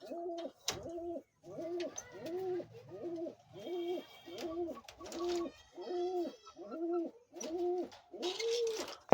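Pouter pigeons kept in a loft, cooing in a steady run of about a dozen close, evenly spaced low rounded coos, with faint rustling between calls.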